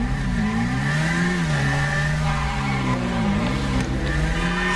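An old Indian motorcycle in the GTA 5 video game runs with a steady, throaty engine note that rises and dips slightly as the throttle shifts, continuous and close.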